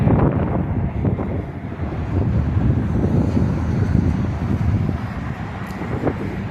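Strong wind gusts outdoors in daylight and buffets the microphone in a continuous low roar that swells and eases for several seconds, with no talking.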